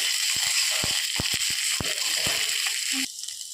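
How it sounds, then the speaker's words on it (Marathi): Chili, garlic and ginger paste sizzles in hot tempering oil with popping mustard seeds, a steady close hiss broken by several sharp crackles and spits, easing off near the end. "अशा प्रकारे तळून घेतो."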